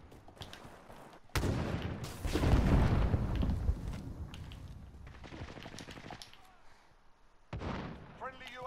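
Gunfire in a video game: a sudden loud burst of shots and booms dominates the middle, with further bursts toward the end, while players talk over it.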